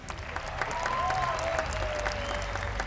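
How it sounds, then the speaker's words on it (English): Audience applause at a national arts and culture awards ceremony swells into steady, moderately distant clapping from a large crowd, with a faint tonal sound drifting underneath. "Give them a round of applause."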